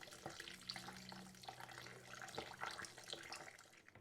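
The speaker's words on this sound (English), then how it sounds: "So I would cover them entirely with water first and give them a good" Stinging nettles are stirred in a bowl of water, giving soft splashing and trickling with small clinks of a spoon, faint and close, with no voices.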